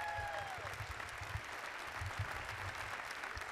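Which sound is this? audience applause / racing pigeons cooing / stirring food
audience applause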